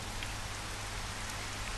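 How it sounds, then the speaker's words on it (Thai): Steady rain pours down in the video game Final Fantasy XV Platinum Demo, a dense, even hiss of drops that continues without pause. "อ้าวฝนตกซะแล้วนะครับ"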